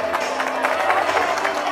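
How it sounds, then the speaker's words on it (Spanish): Dense applause from an audience at a primary school promotion party in Arequipa, continuous clapping with crowd murmur, fairly loud throughout. "ponle los aplausos, por favor."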